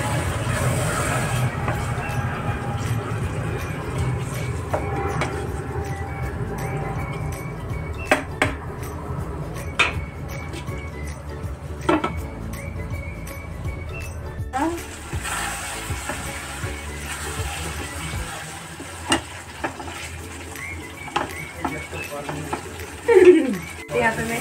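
Spoon working sour curd into a dish in a pan, with intermittent scrapes and light metallic clinks against a low background rumble, fairly faint and irregular.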